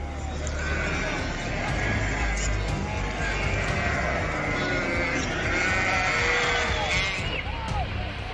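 Sheep and goats bleat during a flood rescue by boat from a river, with several overlapping calls over a loud, steady wash of water and motor noise.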